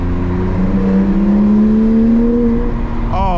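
A Porsche 911 GT3 engine pulls hard and loud from close by, its rising tone climbing steadily through the gears, heard from inside the car with no talk.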